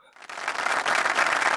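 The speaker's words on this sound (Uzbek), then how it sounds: "Mana shu yerda bitta qarsak qo'yib yuboramiz." Applause from a studio audience during a sports-themed Q&A show, a dense burst of clapping that swells within the first moments and stays steady and loud to the end.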